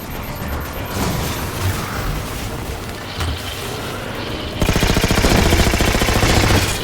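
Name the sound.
turret gunfire in Halo 4 video game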